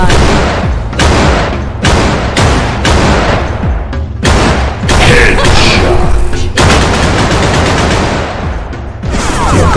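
Loud rapid gunshots in a Roblox shooter game, repeated sharp bursts and single cracks filling the whole stretch, with brief gaps between volleys and a short spoken line among them.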